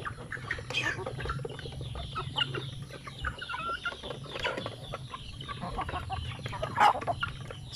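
Shamo chickens on a backyard poultry farm clucking in repeated short, uneven bursts at close range, with a low steady hum underneath.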